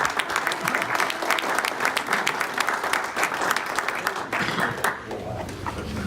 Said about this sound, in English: if I could have a round of applause for these Rotarians